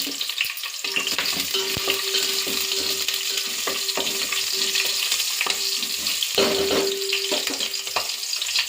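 Green chilies frying in hot oil with whole spices like shahi jeera, cloves, cinnamon, cardamom and bay leaves for Telangana bagara rice, a steady close sizzle with occasional stirring scrapes throughout, no voices.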